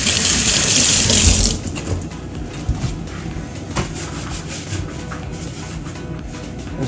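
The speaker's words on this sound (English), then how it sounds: "So again, we'll just rinse it off." Tap water gushes loudly into a sink for about a second and a half while a part is rinsed, then cuts off, leaving faint drips and small handling clatter.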